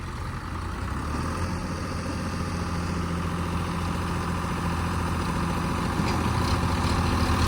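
A tractor engine runs steadily during soil work with a trailer, a dense, constant diesel rumble close by with no clear change in pitch throughout.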